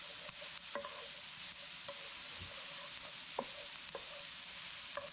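Garlic, green peppers, mushrooms, onions and sausage fry in a pan, giving a steady close sizzle with occasional utensil taps and stirring scrapes and no talking.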